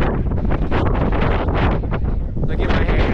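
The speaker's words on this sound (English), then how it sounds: "As you can see, it is super windy out here." Strong wind buffeting the microphone in a loud, continuous roar with gusty surges and no pauses.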